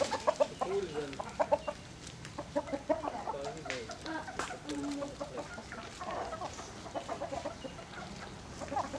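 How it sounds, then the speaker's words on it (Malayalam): Chickens cluck and chatter repeatedly at close range in a farmyard setting, with faint background voices now and then under the steady bird calls. "മറ്റേ കോഴി"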